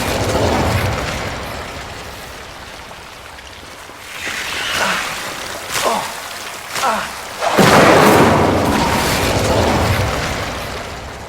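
Incendio fire spell cast in Hogwarts Legacy: several roaring, whooshing bursts of flame in the middle stretch, rising over a steady rain-like hiss and low rumble.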